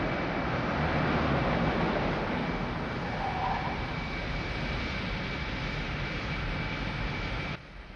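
An airplane takes off with a loud, steady engine roar that fills everything, holding strong and even for several seconds before cutting away suddenly near the end.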